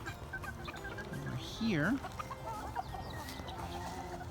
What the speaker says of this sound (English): These are cockerels and pullets.